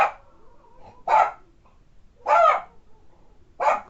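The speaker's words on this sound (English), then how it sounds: "I'm just going to let you listen to my other dog bark from the inside" A dog barks from inside a house in four sharp, evenly spaced barks with quiet pauses between them, loud and fairly close.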